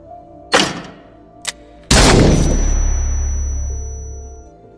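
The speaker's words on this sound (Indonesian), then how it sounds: "Kemudian wasit meminta mereka agar memulai lagi untuk melakukan tembakan kedua" Pistol shots in a duel: a sharp loud crack, then a brief smaller snap, then a louder blast with a long rumbling low decay, with no talk.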